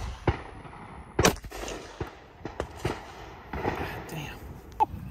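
.454 revolver shot fired at Predator Level 3A soft body armor: one sharp, close crack rises among scattered thumps and handling noise, with voices murmuring around it outdoors.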